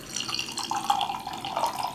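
Chocolate cake stout beer pours into a glass with a steady, close liquid splash and gurgle that lasts about two seconds, with no talking.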